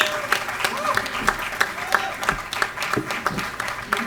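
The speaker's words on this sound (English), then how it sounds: "Now, this is the applause I was talking about." Audience applause at an annual day awards ceremony after a student artist wins a merit award, lively sustained clapping from a large crowd, with cheers and voices mixed in.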